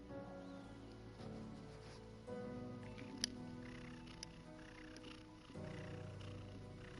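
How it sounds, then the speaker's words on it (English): A house cat purring while settled on its owner's lap at a desk during a long streaming session. The purr is a faint, steady low rumble with a few soft rustles and one small tap. "Can you hear that purring?"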